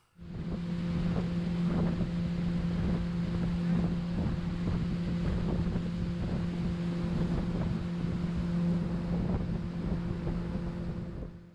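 A pontoon boat motor drones steadily at a low, even pitch on a lake in Georgia, with wind buffeting the microphone and water rushing alongside; no voices.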